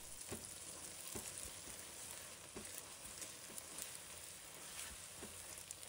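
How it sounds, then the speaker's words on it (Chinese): Beaten eggs stir-fried in cooking oil in a wok give a faint, steady sizzle, punctuated by regular light taps and scrapes of a spatula breaking up the egg. "再将鸡蛋炒散。"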